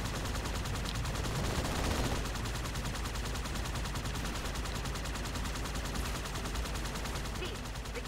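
Halo 2 battle gunfire, dense sustained automatic weapon fire and shooting from Covenant guns, a continuous loud wash of rapid shots with no pauses, set against game ambience.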